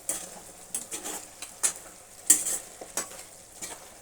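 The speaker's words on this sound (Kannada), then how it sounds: "ಒಗ್ಗರಣೆಯಲ್ಲಿ ಎಣ್ಣೆಯಲ್ಲಿ ಒಂದು ಹತ್ತು ನಿಮಿಷ ಸುಂಡಿಸ್ಲೇಬೇಕು ಚಿಕನ್ನ" Chicken frying in oil with seasoning for a green chilli chicken sambar, a soft steady sizzle broken by irregular scraping stirs and light utensil clinks against the pot, close and fairly quiet, no voices.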